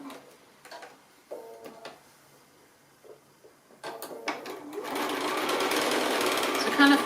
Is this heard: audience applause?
no